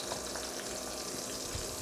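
Onions frying in a pan for spinach burani, a soft, steady sizzle and crackle heard close up, continuous throughout with no talking.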